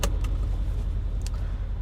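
Mercedes-Benz CL63 AMG V8 idling on a hot day with the air conditioning running, a steady low rumble that stays constant throughout, with a few faint clicks and rattles above it.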